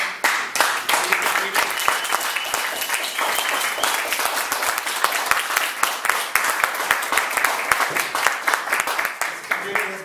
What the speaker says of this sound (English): one big round of applause for Vladimir